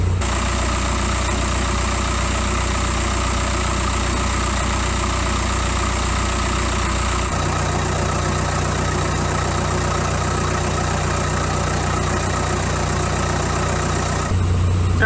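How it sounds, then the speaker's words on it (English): A car engine idles steadily while the front wheels spin freely, a loud constant low hum with a droning whine that shifts slightly in tone partway through and continues without talking. "the vehicle's now been running a little over 2 minutes"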